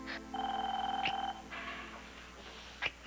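A telephone rings indoors, a steady electronic trill lasting about a second, with a brief voice and faint background sounds after it.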